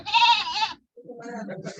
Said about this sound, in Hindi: बकरी कहाँ से आया जी?